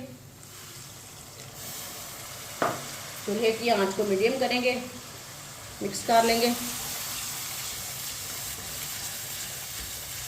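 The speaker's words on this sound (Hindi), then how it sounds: "थोड़ा सा पानी डाल लेंगे।" Water poured into spices frying in a pan for daal karela (bitter gourd with lentils) sets off two loud bursts of sizzling and bubbling over a steady low fry, while a person talks.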